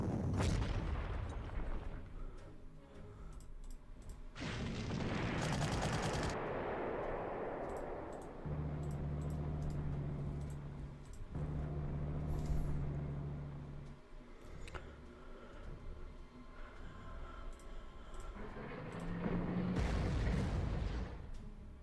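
Artillery shells entrenched troops at Kiev in the strategy game Panzer Corps: several heavy, booming blasts with long rumbling tails, spaced apart, with softer tonal game effects in between and no talking.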